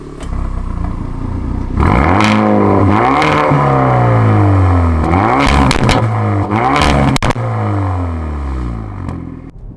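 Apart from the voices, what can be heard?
hot hatchback car exhaust popping on gear changes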